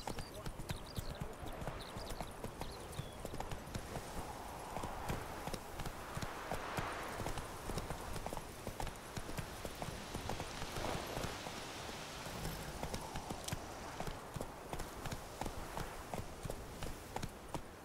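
In The Witcher 3: Wild Hunt, a horse gallops along a road with a steady, rapid clip-clop of hooves throughout, while a voice speaks over the riding.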